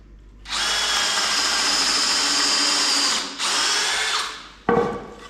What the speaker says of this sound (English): he's drilled pilot holes, slightly bigger than the screw